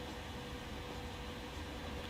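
A train runs in the video game Transport Fever 2 as a steady, even rumble that holds for the whole stretch with no talk.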